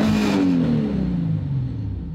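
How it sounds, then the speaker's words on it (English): A Nissan 370Z drift car's engine revs up loudly and then winds down, its pitch sliding steadily lower as the revs fall away. "Revs so fast."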